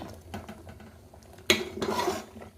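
Cooked rice tipped into a pot of khichuri with well-softened dal, giving a sudden soft thud and scrape of utensil against the pot, then a stretch of stirring and clinking, fairly close and alone.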